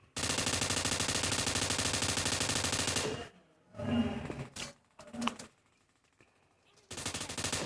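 Automatic gunfire in a Korean-version battle royale video game: a dense, loud, sustained burst for about three seconds, then scattered shots and quieter game effects, with a final burst at the end and no speech.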